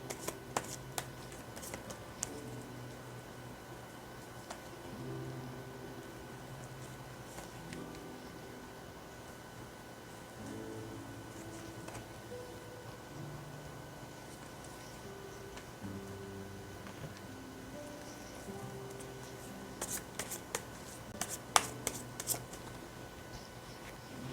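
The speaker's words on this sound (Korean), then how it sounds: "그럼 9월에 나에게 일어날 기쁜 일에 대해서 카드 뽑아 보겠습니다." Tarot cards are shuffled and drawn by hand, giving a faint, steady rustle of card handling with a few crisper snaps and flicks near the end, close and quiet.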